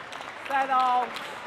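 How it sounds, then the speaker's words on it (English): A crowd at a pickleball match claps in a soft, scattered patter. A voice speaks briefly over it. "And the crowd really appreciating some great pickleball"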